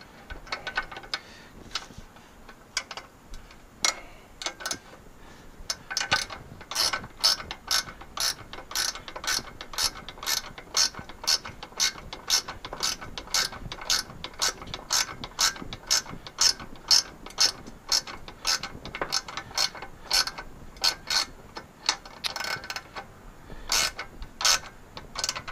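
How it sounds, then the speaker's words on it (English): A hand ratchet tightens nylock nuts on the back of a rotary welding table, giving long runs of rapid, crisp, close clicking with brief pauses between strokes and no voices. "Using nylock nuts on the back of this so we can snug it up, but not too tight, so it'll still rotate"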